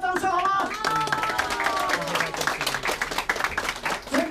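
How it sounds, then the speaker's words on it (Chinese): Audience at a health insurance card-making service launch at a township office applauds in steady clapping, with an announcer's voice speaking over it throughout. "再一次给他掌声好吗？"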